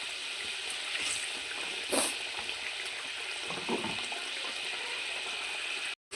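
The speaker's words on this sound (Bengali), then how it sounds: "এবার মাছগুলো সব দিয়ে দেবো।" Bhola fish pieces drop into boiling spicy curry gravy, giving a continuous watery bubbling and rushing with a couple of brief splashy bursts, fairly loud and close, with a short cut near the end.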